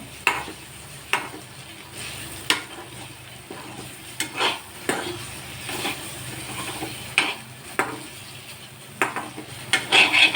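Mutton pieces frying on a low flame for a kelly fry, with a steady soft sizzle and repeated scraping stirs of a spatula against the pan at irregular intervals.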